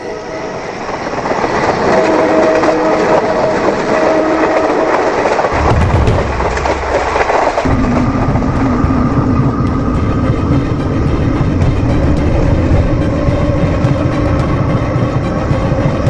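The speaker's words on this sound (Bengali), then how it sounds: "দূরে ট্র্যাক দিয়ে ট্রেন যাচ্ছে" A train runs along the track near a station, a loud continuous rumble and rattling of wagons that swells and holds steady for the whole stretch.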